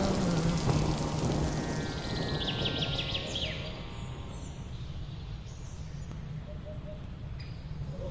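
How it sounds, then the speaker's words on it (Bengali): Steady night rain falls across hill country, with a thunder rumble building early and a continuous wash of rainfall holding close and loud throughout. "রাতে শুরু হলো মেঘের গর্জন আর বৃষ্টি"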